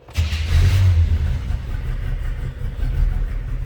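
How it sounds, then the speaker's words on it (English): A 1968 Chevrolet C10 Stepside pickup with an electric fuel pump starts right away. Its engine revs briefly, then settles into a steady, close, throaty idle with no talking over it. "Let's go ahead and fire it up so you can hear it run."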